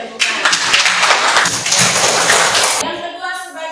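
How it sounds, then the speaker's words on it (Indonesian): A classroom group bursts into a dense round of clapping that holds for a few seconds and then stops abruptly, with voices heard afterward. "Oke, tepuk tangan."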